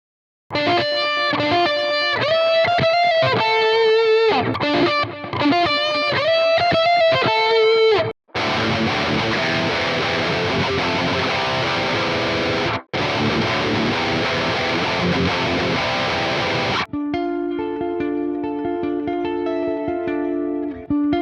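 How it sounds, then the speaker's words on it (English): An electric guitar strung first with old strings and then new ones plays heavily distorted riffs and chords through an amp modeler, in loud passages split by brief pauses, ending on a cleaner, sparser phrase. "let's hear how old strings and new strings sound"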